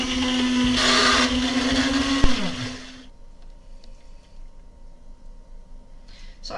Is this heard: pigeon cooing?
no